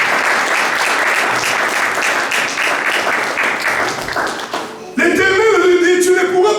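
A church congregation claps in praise during a sermon, a dense, fairly loud wash of applause that fades after about five seconds, when music and singing take over.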